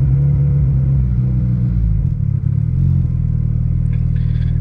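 A car running on a Burton Racing coil-on-plug kit, just after its first start, with fouled spark plugs, idling roughly and struggling to stay running, with a steady loud low rumble that dips and shifts partway through.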